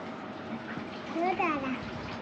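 A male goat drinks water after eating fodder, making a soft continuous splashing, lapping sound close by, with a brief voice breaking in midway.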